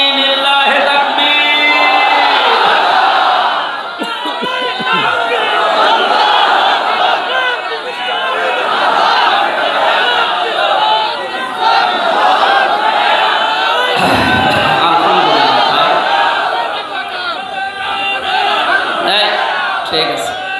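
A large crowd of worshippers shouts back the takbir in unison to a preacher at an open-air Bangladeshi Islamic sermon, a loud sustained roar of many voices that swells and briefly dips.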